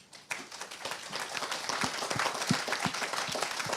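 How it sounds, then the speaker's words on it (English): Audience applause after a lecture panel discussion, steady dense clapping from a room full of listeners that swells slightly and holds throughout. "Please applause for their efforts."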